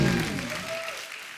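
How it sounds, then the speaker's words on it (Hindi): An audience on the Kapil Sharma comedy show claps in a loud burst that gradually thins and fades, with a host's voice briefly heard over the start of the applause. "एक बार जोरदार तालियां"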